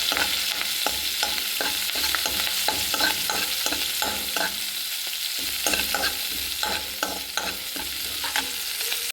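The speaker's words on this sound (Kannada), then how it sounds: "ಒಂದು ಕಾಯಿ ಮೆಣಸು ಹಾಕ್ತಾಯಿದ್ದೀನಿ, ಸ್ವಲ್ಪ ಕರಿಬೇವು ಸೊಪ್ಪು, ಇದು ಕೂಡ ಚೆನ್ನಾಗಿ ಫ್ರೈ ಆಗಬೇಕು." Green chili and curry leaves fry in hot oil, giving a steady sizzle broken by regular scraping strokes of a spoon stirring the pan, close and without talk.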